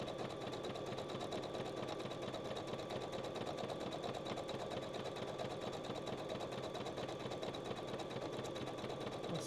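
A sewing machine stitching steadily, with a fast, even mechanical whirring and clatter that runs without a break, close up and quiet, with no voices.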